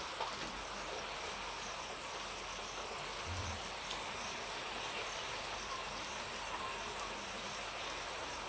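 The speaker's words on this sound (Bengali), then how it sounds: "এখন একটু গুঁড়ি গুঁড়ি বৃষ্টি হচ্ছে।" Light drizzling rain after a heavier shower makes a steady, even hiss of broadband noise throughout, soft and continuous with no distinct drops standing out.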